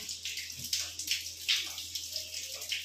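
Water running from a pipe at home, a light splashing stream with irregular spattering pulses, fairly faint and close, steady throughout.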